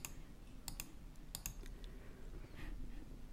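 Key presses on a TI-30X calculator while entering a fraction: a few crisp, quiet clicks in irregular clusters over a steady low background hum, with no talking.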